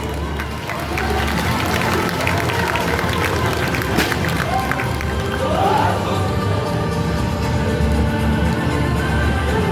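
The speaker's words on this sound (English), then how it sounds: "please give a big round of applause to them" Crowd applause and cheering for karate demonstration performers, a steady wash of clapping filling the space for several seconds at moderate loudness.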